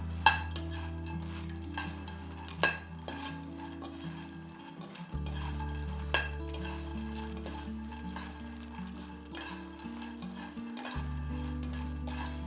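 Makhana masala snack being stirred in a pan with the flame off, soft scraping and clinking of a spoon against the pan over a quiet, continuous background hum.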